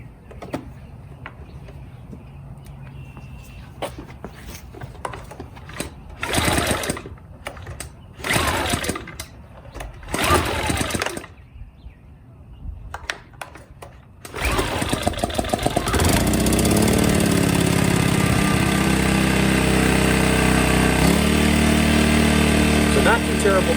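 A Sportsman 1000-watt inverter generator is pulled several times in short bursts, then catches and settles into a loud, steady running drone that holds to the end.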